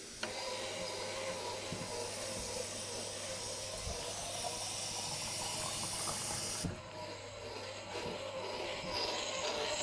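Wet stone sharpening grinder running with water in the stone, a steady hiss and motor hum held at an even level, briefly dipping partway through, with no talking.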